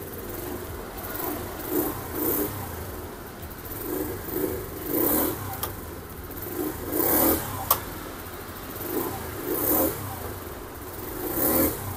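A small Suzuki Let's 4 scooter with a stock exhaust and standard engine revs up in a series of short, repeated throttle blips, each rising and falling in a steady rhythm close to the listener.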